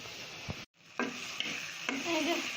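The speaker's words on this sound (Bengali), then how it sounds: "এই যে পটলের বীজগুলো তো ভালো করে ভেজে নিলাম" Pointed gourd seeds fry in mustard oil in a pan, a soft steady sizzle broken by a few scraping stirs and clinks, close and quiet.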